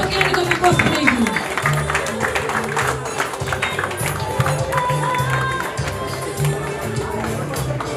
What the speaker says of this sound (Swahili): Tupokeni kwa makofi mengi